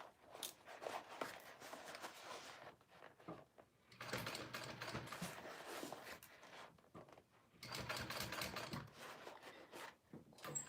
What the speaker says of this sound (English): I'm top stitching through that side panel though.